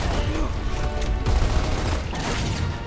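Gunfire in the Gears of War video game, a dense chaotic fusillade of shots and mechanical clatter mixed with booms, loud and continuous throughout.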